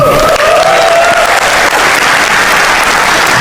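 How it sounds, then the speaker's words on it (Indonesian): Loud, dense audience applause fills the whole stretch as an unbroken wash of clapping, close and sustained without pause. "yang bangga jadi orang Indonesia coba tepuk tangan"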